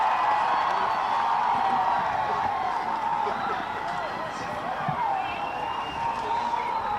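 A crowd cheers and roars after a goal at a wet-weather Eastland Division 4 Reserves grand final, a sustained, fairly distant swell of whoops and shouts that holds for several seconds.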